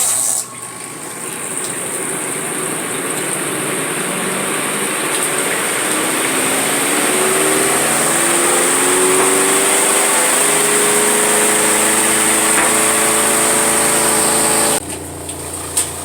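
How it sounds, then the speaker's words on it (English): A small apartment mini washer's spin motor runs as a loud, steady whir, with a pitch that rises and shifts as it speeds up, alongside flowing rinse water, then cuts off near the end. "I'm going to turn the spinner on."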